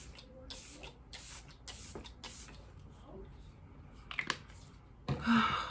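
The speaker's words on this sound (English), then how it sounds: "So I'm just gonna spray some of this." Several short hissing bursts of a makeup setting spray bottle in quick succession, close and fairly soft, followed by light handling noises.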